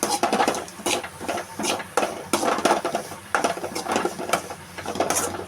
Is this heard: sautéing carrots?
yes